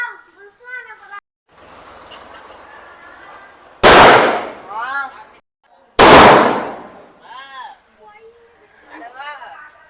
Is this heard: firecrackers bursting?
yes